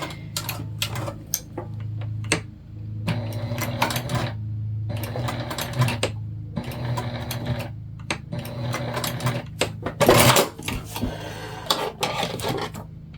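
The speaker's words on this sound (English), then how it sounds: "it looks like we stitched through just fine that time" A sewing machine stitches through a small fabric hip bag in bursts of rapid mechanical chatter, several runs separated by short pauses, close and loud, with one sharp louder clunk near the end and no talking.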